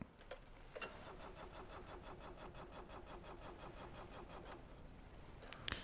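Engines in Stormworks trying and failing to start, giving a faint rapid rhythmic cranking pulse that runs steadily for several seconds, with a few sharp clicks at the start and end.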